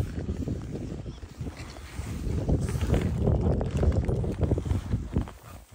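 Strong wind gusting across an open mountain fell during a ptarmigan hunt, a steady loud roar buffeting the microphone throughout with rising and falling gusts.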